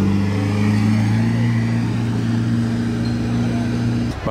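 A LaFerrari engine running at a steady, loud, deep idle-like drone close by, holding an even tone throughout before cutting down briefly at the end.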